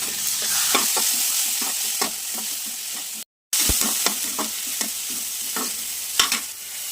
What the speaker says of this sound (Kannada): ಚೆನ್ನಾಗಿ ಫ್ರೈ ಮಾಡುವ. ಒಂದು ಟೊಮೆಟೊ ಕೂಡ ಹಾಕ್ತಾ ಇದ್ದೇನೆ.